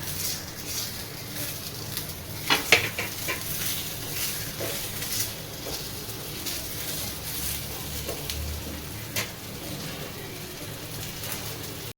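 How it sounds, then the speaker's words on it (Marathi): Tomatoes roast in a pan for tomato chutney, giving a steady, soft crackling sizzle throughout with a few sharper pops and small clatters mixed in. "टमाटर मस्तपैकी भाजत आहे"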